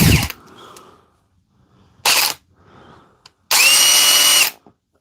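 An old brushed Makita 458 two-speed drill fires in short bursts: a brief whir, a quick second run, then a longer high-pitched whine, separated by quiet gaps with faint handling clatter.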